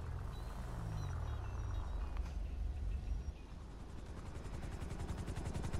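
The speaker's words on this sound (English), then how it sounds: "There's a chopper." A helicopter in the Grand Theft Auto V video game. Its steady rotor chop and engine drone hold close and loud, with low rumbling throughout and no talk.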